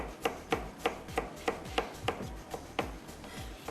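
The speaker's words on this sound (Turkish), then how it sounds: "bir doğrayalım önce havuçlarımızı" A knife chops carrots steadily on a cutting board, a dozen or so crisp, evenly spaced strikes, close and fairly quiet.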